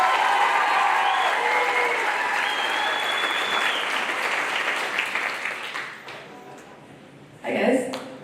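An audience at a school afterschool music program showcase applauds a band. Loud, dense clapping fills the first several seconds, then fades, and a brief burst of cheering or noise comes near the end.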